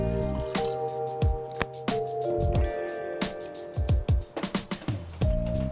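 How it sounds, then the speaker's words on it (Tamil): Water splashing into a cooking pot in a TV kitchen, heard close as uneven drips and wet plops with a faint ringing metallic hum underneath. "ஸோ இதில் கொஞ்சம் தண்ணி ஊற்றிட்டு"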